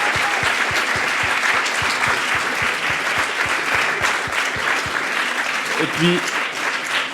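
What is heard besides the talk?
audience applause for the seven finalists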